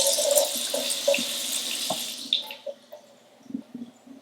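Running tap water pours steadily over tomatoes and basil being rinsed at a kitchen sink, a broad close splashing hiss that thins out midway, followed by a few soft handling knocks and drips.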